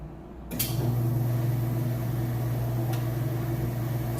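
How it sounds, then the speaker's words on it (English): Whirlpool washing machine draining water, a low steady pump hum that starts abruptly with a thump and keeps droning evenly, close and loud, with no talk. "now the drain is running. You can hear it draining out of there or not."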